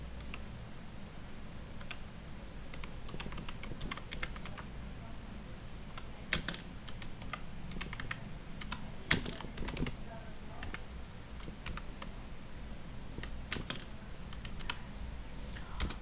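Someone types Gujarati text on a computer keyboard, producing faint, irregular key clicks scattered over a steady low room hum, quiet and close.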